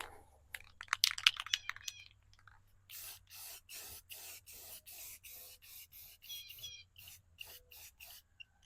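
Short bursts from a spray paint can coat a homemade steel trailer ramp, coming in a steady series of hissing sprays separated by brief pauses, close and clear after some earlier scraping.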